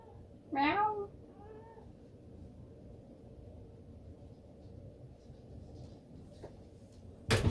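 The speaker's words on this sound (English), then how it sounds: "This is my cat." A pet cat named Oogie Boogie gives one short, clear meow, followed by near silence with a faint click at the end.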